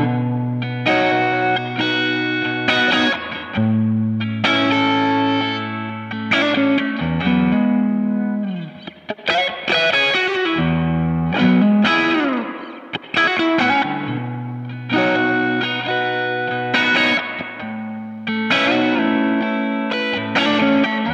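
Electric guitar with reverb through amps plays a song, clean chiming notes and bends ringing out with a lush reverberant tail, steady and fairly loud, no talking.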